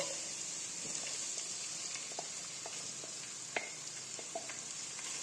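Boiled, lightly salted shredded chicken goes into a hot pan and fries with a steady, close sizzle, broken by a few faint clicks and scrapes of stirring.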